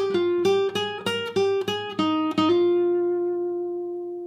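A lead guitar picks a Mixolydian lick, a string of eight or so bright plucked notes at a brisk even pace, the last note ringing out and fading, played alone.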